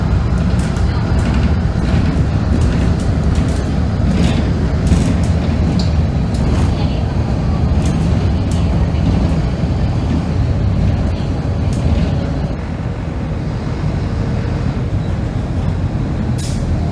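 Inside a moving Buenos Aires line 50 city bus, a continuous loud engine drone and road rumble fill the cabin, with rattles and occasional clunks throughout.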